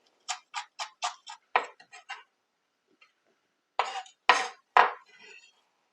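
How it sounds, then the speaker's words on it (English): A knife finely chops parsley on a cutting board: a quick run of crisp, sharp taps, a short pause, then a few more heavier strikes, close and otherwise quiet. "Now for the parsley, you're going to want to cut some of it up pretty fine to put in the meatball."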